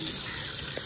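Tap water gushing steadily while meat is rinsed, a continuous close splashing rush with no pauses.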